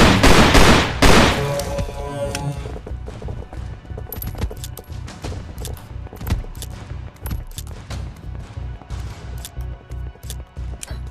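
Revolver pistol in the Sport Mode VR game fires a burst of loud shots at the start, followed by a long run of sharp, evenly spaced cracks and thuds at moderate loudness.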